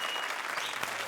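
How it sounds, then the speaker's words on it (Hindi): A live studio audience at a Hindi comedy show bursts into brief, dense clapping, a short close wash of applause without speech. "तालियां बजाओ"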